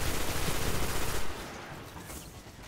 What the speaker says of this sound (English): everybody's firing at it